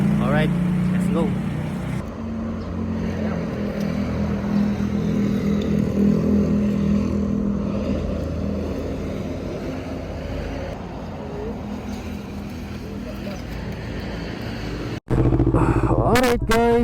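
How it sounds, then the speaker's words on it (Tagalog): A motorcycle engine runs on a roadside in San Juan, La Union, after a breakdown. It gives a continuous, close droning hum with voices over it, then a brief cut and a louder surge near the end. "Napaandar natin yung motor natin guys"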